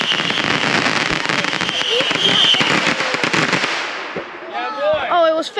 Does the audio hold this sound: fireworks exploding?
yes